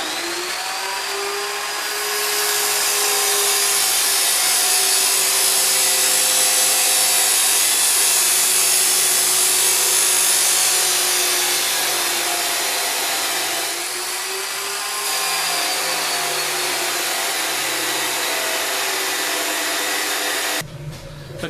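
A power saw cuts through metal during a solar PV installation, a loud, steady high-pitched grinding whine that runs almost continuously for about twenty seconds, dipping briefly midway before resuming and cutting off at the end.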